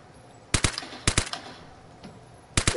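Gunfire in the shooter game Vigor comes as three sharp, close bursts of two or three rapid shots each, spaced about half a second to a second and a half apart, with a quiet background between them.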